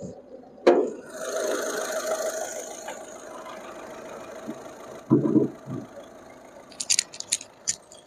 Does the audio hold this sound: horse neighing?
no